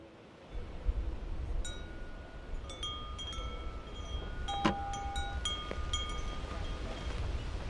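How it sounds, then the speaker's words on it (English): Strong wind blows outdoors in far West Texas as a steady low rumble against the microphone, with scattered light metallic clinks and tones over it. "What you doing out in this wind?"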